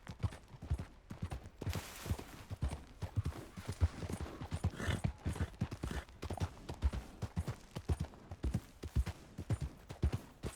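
Steady clip-clop of horse hooves at a walking pace in Red Dead Redemption 2, close and continuous, with a regular rhythmic beat throughout.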